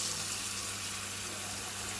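Tap water runs steadily into a cooking pot for peas, a soft continuous splashing hiss close by, with no talk.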